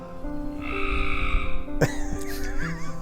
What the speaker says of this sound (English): Is that frog still on my bike?